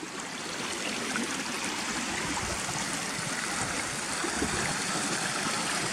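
A moorland stream near Gunnerside runs down from waterfalls toward the River Swale, giving a steady, close, broadband rush and babble of water with no voices.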